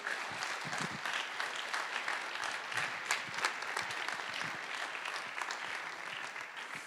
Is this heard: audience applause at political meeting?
yes